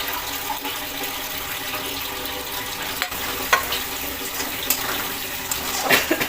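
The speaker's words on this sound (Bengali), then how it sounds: "মশলাটাতে পুড়ে না যায় একটু জল দিয়ে দেবো রাখা টমেটোটা দিয়ে দেবো" Water and tomato go into a spice paste frying in a pan for chicken biryani, giving a loud, continuous sizzle with occasional sharp clinks and stirring noises throughout.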